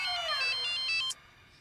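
An incoming-call phone ringtone plays loudly and close, a bright rising electronic melody of rapid repeated tones lasting about a second before cutting off abruptly into quiet room tone.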